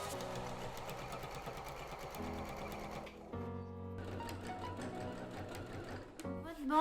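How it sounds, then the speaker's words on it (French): A sewing machine running a straight-stitch seam, its rapid mechanical clatter continuous and close for several seconds with brief changes in speed, no talking. "petite couture au point droit pour permettre de refermer l'ouverture par la même occasion"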